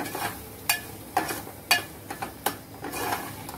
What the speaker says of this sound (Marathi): हे मसाल्यात आधी वाटण छान परतून घ्यायचं आपलं